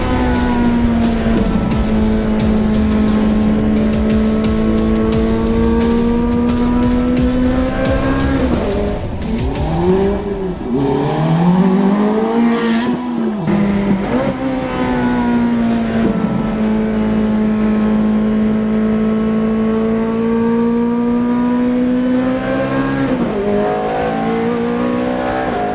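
A Ferrari F430's high-revving engine drones loudly, pitch rising and falling through gear changes as it accelerates, with a brief dip and squeal midway.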